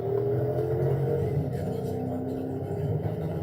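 A Florida Highway Patrol Dodge Charger with a 5.7 Hemi V8 idles and rumbles at moderate distance, a steady low engine drone with faint whirring on top.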